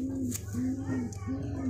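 A pigeon held in the hand gives repeated low, steady coos, three close cooing phrases with faint voices in the background.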